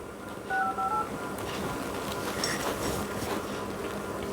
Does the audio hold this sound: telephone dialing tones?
yes